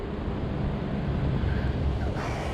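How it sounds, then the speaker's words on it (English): Wind gusts buffet the microphone while riding a 20-inch 48V fat-tire Ecotric e-bike on a warm windy day, a steady loud low rumble that continues throughout. "Yeah, just a windy day."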